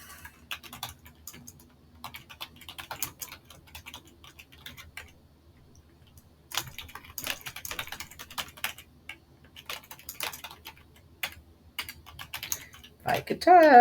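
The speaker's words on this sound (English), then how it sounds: "If I could type." Rapid typing on a computer keyboard, close and clear, with irregular bursts of clicks separated by short pauses, plus a brief voice near the end.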